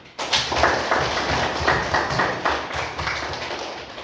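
A classroom of students claps together after a group presentation, a dense, steady patter of many hands, close and fairly loud, sustained for several seconds with little talk.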